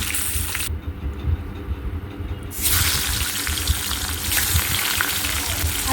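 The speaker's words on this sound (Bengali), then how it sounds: "আরও কয়েকটা মাছের মাথা আছে আমি এইভাবে তেলের মধ্যে দিয়ে ভেজে নেব" Katla fish heads fry in hot oil with a loud, dense, continuous sizzle and spitting crackle that briefly dulls, then surges back fuller for the rest of the clip.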